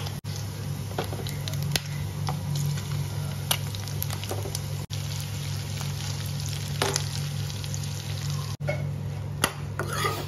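Ginger, garlic, chili and onion fry in hot oil in a pan, a steady close sizzle with occasional scrapes and clicks of stirring and a low background hum.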